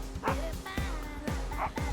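A dog in the video game Xenoblade Chronicles X gives several quick, yipping barks in a steady rhythm, close and clear, with background game music underneath.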